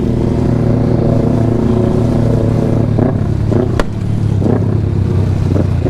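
A Kawasaki Ninja 400 motorcycle engine runs loud and close at a steady, rumbling idle. It is joined by a few rhythmic revs or clattering bursts in the second half and one sharp click.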